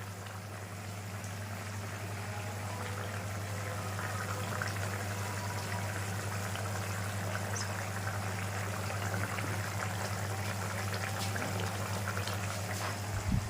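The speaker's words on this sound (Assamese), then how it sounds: "তৰকাৰীখিনি উতলিছে" Tura fish curry simmering in a pot in a village-style Assamese kitchen, a steady low bubbling and hiss that runs evenly throughout, fairly quiet and close, with no talk.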